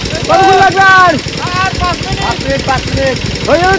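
An engine-driven paddy thresher runs with a loud, rhythmic chugging beat, overlaid by rising and falling whines as sheaves of paddy are fed in; a voice is heard alongside.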